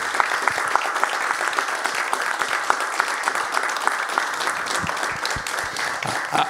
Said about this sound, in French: je pense qu'on peut lui faire, juste pour lui, un immense applaudissement